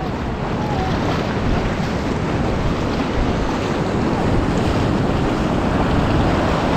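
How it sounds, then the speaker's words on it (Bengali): Large ocean waves on Cox's Bazar beach roar in a constant, loud broadband wash, with heavy surf and wind buffeting the microphone throughout. "এবার ঢেউ ছিল, অনেক অনেক ঢেউ ছিল"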